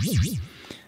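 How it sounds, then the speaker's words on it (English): A Roland JD-08 synthesizer tone whose LFO swings the pitch rapidly up and down in a steady, wavering siren-like pattern, followed by a short click as the sound thins out and fades. "So what you're hearing are rapid ascents and descents in the pitch."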